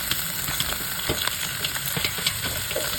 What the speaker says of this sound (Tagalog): dahil lumabas na yung aroma ng ating bawang sibuyas, ilalagay ko na yung ating giniling